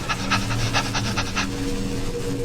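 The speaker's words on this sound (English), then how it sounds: "And that panting." Ragged, breathy panting from a ghostly-faced enemy in the horror game Cry of Fear, heard in subway tunnels: a run of quick hoarse gasps over a low droning ambience that fades into steady hum.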